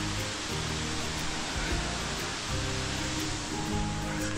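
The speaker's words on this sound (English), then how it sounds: "that's where the water's falling down from." Small waterfall in Dean's Village, Edinburgh, pouring down in a steady, broad rushing hiss that runs unbroken throughout, with faint low rumbles beneath.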